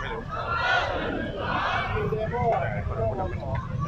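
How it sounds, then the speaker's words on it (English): A crowd of protesters at a political rally in Thailand shouts slogans in unison, loud rhythmic chanting voices with street noise behind them. "Once again, the protesters shouting, "Bloy Puan Rao, free our friends.""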